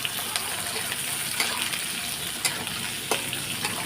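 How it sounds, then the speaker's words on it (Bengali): Onions sizzle and crackle steadily in a hot pan, frying until browned, a continuous close frying hiss with a few sharper pops. "পেঁয়াজটা এখন লাল লাল করে আগে ভেজে নেব"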